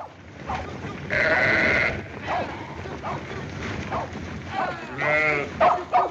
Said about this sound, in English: Come on, get them sheep moving.